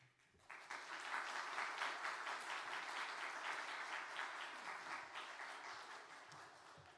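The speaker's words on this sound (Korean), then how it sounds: "목사님 나오실 때 크게 환영의 박수로 환영해 주시면 감사하겠습니다" A church congregation at a military university's Wednesday worship service breaks into warm welcoming applause for the pastor, swelling quickly after a brief start and holding as a full, even roar of clapping that slowly tapers.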